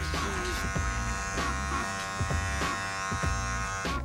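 Hair clippers fitted with a number one guard and the taper lever closed buzz steadily through a bald fade at close range. Brief scraping strokes sound as the clippers move down the back of the head.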